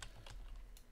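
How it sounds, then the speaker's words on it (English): Computer keyboard keys clicking in quick, uneven bursts during a Lord of the Rings Online game session, close and fairly soft, with no voices. "I was clicking a bunch of other buttons"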